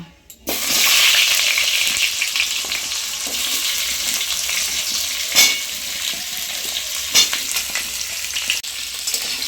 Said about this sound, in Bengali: এবার আমি সব সবজিগুলোকে একসাথে ভেজে নেব।